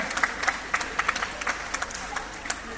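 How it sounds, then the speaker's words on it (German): An audience at a children's festival in Germany claps after a successful ball throw, a lively patter of many hands with distinct sharp claps standing out across the whole stretch. "super geworfen, Applaus für dich"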